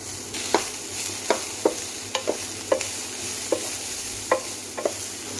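Vegetables sizzle steadily in a hot pan while a utensil scrapes and stirs in quick, sharp strokes, roughly once or twice a second.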